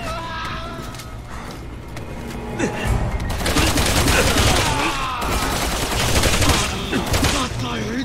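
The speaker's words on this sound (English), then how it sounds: "Hey, Pierce, I'm taking a little fire here." Heavy gunfire in Resident Evil 6: dense volleys of shots and impacts build to a loud, sustained barrage with scattered bangs and game effects, and no speech.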